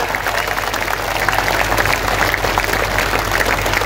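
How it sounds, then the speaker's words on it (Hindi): Loud, dense applause fills a Hindu religious gathering for a Shri Ram birth festival, sustained and steady with a low hum beneath it and no clear break. "और एक बार जोरदार तालियां आयोजन समिति के जुड़े सब लोगों के लिए, गड़गड़ाती हुई तालियां जरा।"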